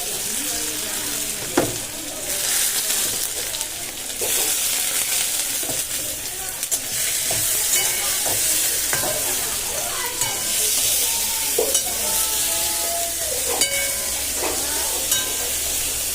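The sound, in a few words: stir-frying white rice to make fried rice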